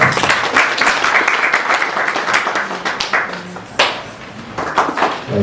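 A crowd at a university hub launch event claps steadily for several seconds, a dense patter of applause that thins slightly toward the end, with a few sharper louder claps.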